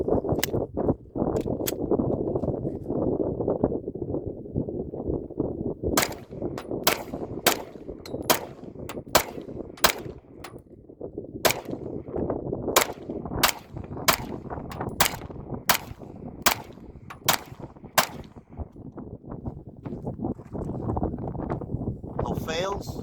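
A Springfield Armory XD Mod 3 pistol fires through a magazine outdoors, about a dozen sharp, loud shots in a steady rhythm over wind noise, with someone talking before and after the string.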